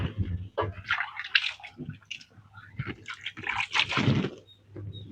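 Water splashes and pours in irregular bursts, close by, with scraping and dripping as a soil-covered pot is rinsed; no clear talk.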